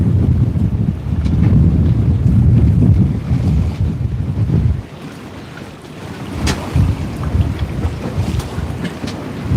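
Gusty wind of at least 15 knots buffets a sailboat at anchor off Lorengau, Papua New Guinea, a loud, rumbling roar against the microphone that eases midway and then picks up again, with water sloshing along the hull.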